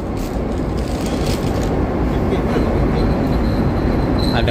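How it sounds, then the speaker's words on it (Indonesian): Train rolling past on a railway at night near a Sydney bridge, a loud continuous rumble and rattle of wagons filling the whole stretch, heard close by from a fishing spot. "Ada kereta api lewat tuh."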